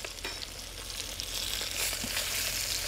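Chilean sea bass pan-searing in a hot pan, a steady close sizzle that swells louder partway through as the fillet is flipped, with faint scraping and clinks on top.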